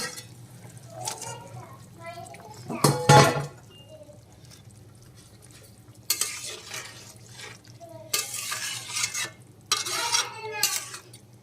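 Eggplant pieces going into a pan of fish curry made with rupchanda fish, with a sharp clatter and scrape of stirring followed by later bursts of sizzling and utensil noise, while a person talks in between.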